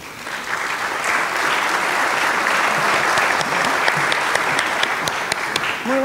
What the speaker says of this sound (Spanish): para quien le pido un aplauso, por favor